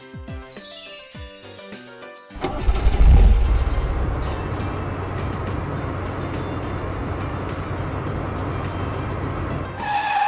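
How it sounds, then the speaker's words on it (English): A school bus starts up after a bright jingle, its engine turning over and then settling into a steady, loud rumble that runs to the end with no talk. "School bus"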